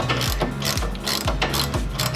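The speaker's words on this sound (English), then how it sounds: "to remove the e-brake caliper, you need a 15." A ratchet wrench clicks in quick, close strokes while loosening e-brake caliper bolts on a third-generation Dodge Viper, about four ratcheting bursts in a steady rhythm.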